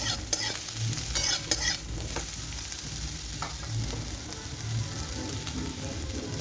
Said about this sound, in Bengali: বেগুনগুলো দিয়ে দেওয়ার পরে বেশ খানিকক্ষণ সময় নিয়ে এটাকে বেগুনটাকেও ভেজে নিতে হবে।